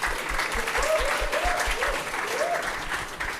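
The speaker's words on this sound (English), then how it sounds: "please give a big round of applause to him" An audience at a Flutter developer conference applauds a speaker, a steady, full round of clapping across the room that carries on evenly throughout.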